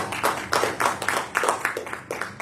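A church congregation claps together in a steady rhythmic beat, about two claps per second, moderately loud and close, during an evangelical service praising the Lord.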